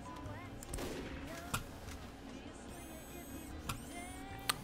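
A few scattered, fairly faint gunshots from the video game Team Fortress 2 pop out at irregular intervals over a continuous bed of background music.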